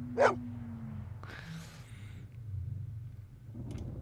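Maggie, a big dog in the Blade Runner video game, gives one sharp nearby bark followed by softer whimpers and rustling over a low ambient hum.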